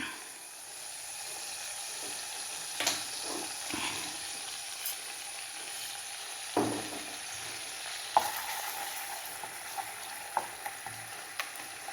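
Pork pieces frying for Kerala-style pork ularthiyathu as their fat slowly melts: a steady, soft sizzle runs throughout, broken by occasional knocks and scrapes of stirring, with no voices.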